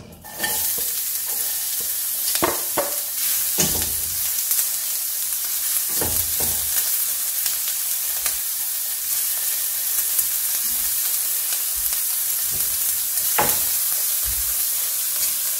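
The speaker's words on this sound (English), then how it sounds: "Okay, let's put a tablespoon of oil. Let's add our onion." Onion sizzles steadily in a tablespoon of hot oil for a coconut sauce, a dense continuous crackle broken by several sharp scrapes and knocks of stirring, close and fairly loud with no talking.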